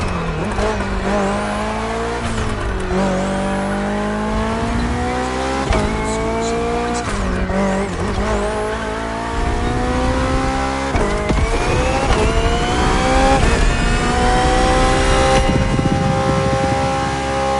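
BMW hybrid V8 race car in The Crew Motorfest, engine loud and close, revving up through repeated gear shifts with rising pitch sweeps, plus tire squeal during hard driving.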